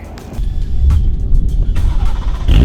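BMW E90 M3 engine revving hard at a dyno day, loud and close, with sharp throttle blips and sustained revs rising and falling through the short burst.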